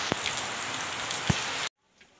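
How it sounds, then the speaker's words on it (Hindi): Rain pouring down outdoors on a street, a dense steady patter and hiss with a few heavier drop impacts close by, cutting off abruptly to near silence near the end. "बारिश देख लो, जैसे घर पहुंचे इतनी कम पड़ रही है।"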